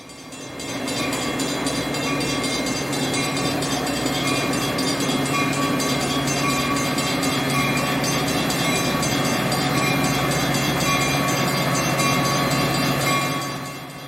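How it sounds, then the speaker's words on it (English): A Metra commuter train rumbles steadily arriving at Downers Grove station, with a continuous mechanical drone and faint squealing, fading in at the start and easing off at the end. "a Metra commuter train outbound from Chicago arrives at the station"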